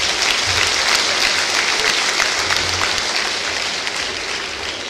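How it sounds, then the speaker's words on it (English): A conference hall audience at an accountants' plenary session bursts into loud, sustained applause, a dense wash of clapping that holds steady for the full stretch and tapers only slightly at the end. "if the applause is not loud enough"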